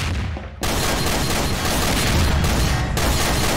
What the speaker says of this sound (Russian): Еще взрыв.